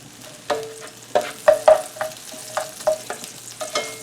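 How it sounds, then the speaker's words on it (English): Chopped onion fries in bacon grease for German potato salad, a soft steady sizzle broken by repeated sharp clinks and scrapes of a spoon stirring against the pan. "we're going to fry that in the bacon grease."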